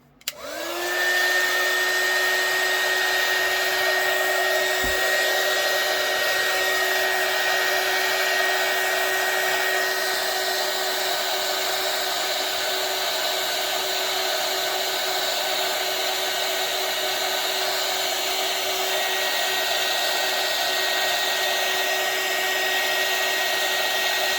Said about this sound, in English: now I need my heat gun